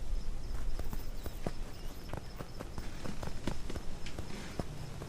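Footsteps in the video game Aveyond 4 tap out a steady walking rhythm, crisp and close, over a constant background hiss with no talking.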